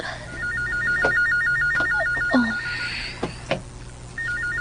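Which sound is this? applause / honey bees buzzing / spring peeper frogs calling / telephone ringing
telephone ringing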